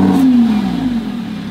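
A Lamborghini engine revs with harmonicas fitted to the exhaust, giving a loud, close rising-then-falling whine with a steady engine drone beneath it. No reed tone stands out from the engine sound.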